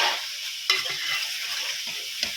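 Fish curry pieces coated in turmeric frying with ginger and garlic in a wide pan: a continuous close hiss of oil with a couple of sharp stirring scrapes, no voices.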